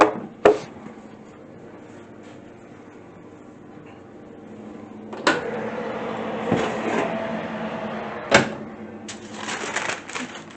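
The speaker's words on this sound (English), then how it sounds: "And now I'm going to bring my hot sheet pan out of the oven." A hot sheet pan comes out of an oven with sharp metallic clanks and scrapes, several distinct bangs against a quiet kitchen background with a low hum.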